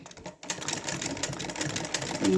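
A domestic sewing machine runs a running stitch for embroidery, a steady close whirring rattle that starts after a short pause and continues without a break to the end.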